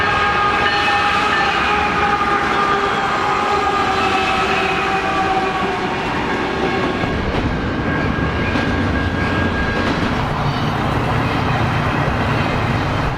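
A train rumbles steadily past along Route 66 in Flagstaff, Arizona, loud and close for the whole stretch, with a sustained horn tone sounding early on over the rolling rail noise.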